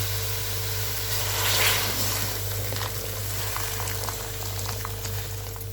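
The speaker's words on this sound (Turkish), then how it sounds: "Şefim suyunu koyuyor." Water goes into a winter soup pot and bubbles at a boil, a soft, steady seething and gurgling with faint pops and crackles, quiet and continuous over a low hum.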